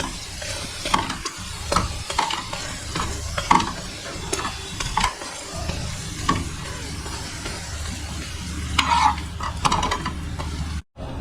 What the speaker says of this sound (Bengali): এবার আমি এটাকে ভালো করে তেল দিয়ে ফ্রাই করে নেব